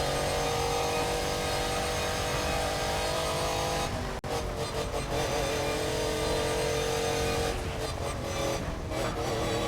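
A car engine in the racing game Need For Speed: ProStreet revs hard and steadily, loud and sustained, with one brief dip partway through and no talk.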